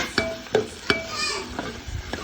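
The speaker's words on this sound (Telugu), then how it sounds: "క్యారెట్ పచ్చివాసన అయ్యేంతవరకు ఫ్రై చేసుకోవాలి." Carrots frying in a pan for pasta, with several distinct scrapes and taps of a stirring spoon over a soft, quiet sizzle, heard close up.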